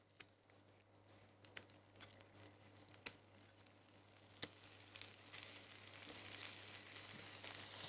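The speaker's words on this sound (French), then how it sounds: "Lorsque le beurre est fondu, on va ajouter les tranches de pommes." Apple slices sizzling in melted butter in a non-stick pan, a soft steady fry with scattered pops and crackles that grows denser and louder toward the end, with no talk.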